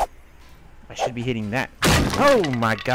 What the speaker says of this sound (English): That's the sound of your axe breaking.